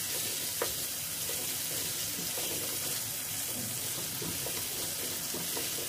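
Water spinach greens frying in a pan with turmeric and salt, a steady close sizzle with occasional stirring scrapes and no talking.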